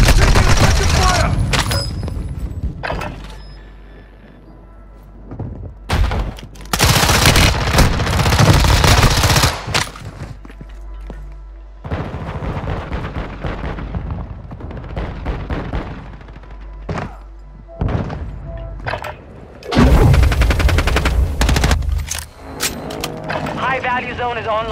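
Bursts of automatic and single gunfire in a Call of Duty Warzone Lockdown match, loud and close, coming in several volleys with short lulls between, with brief game radio voice chatter mixed in.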